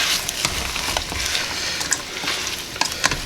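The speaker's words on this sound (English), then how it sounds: "we're going to get these mixed in, stirred in real good," Frozen peas stirred through melted butter in a pan for creamy peas and onions, a steady sizzle with soft scraping and a few sharper clicks of the spoon against the pan, close and moderately loud.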